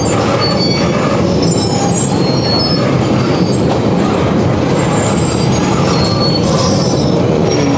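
A train rolls steadily along the rails, a loud continuous rumble with faint wheel squeals and rattling carriages throughout.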